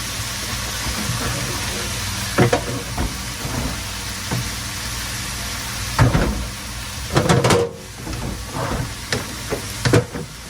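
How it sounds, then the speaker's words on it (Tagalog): Kangkong frying in a pan makes a steady sizzling hiss, and a utensil stirring it adds scattered scrapes and clanks over the sizzle. "Kailangan haluin natin para hindi masunog yung nasa ilalim na"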